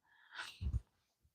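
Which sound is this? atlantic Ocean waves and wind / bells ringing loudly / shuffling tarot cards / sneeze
sneeze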